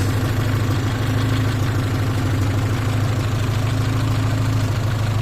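A car engine idling steadily just after starting, a loud close low rumble with an even rapid pulse and no talking.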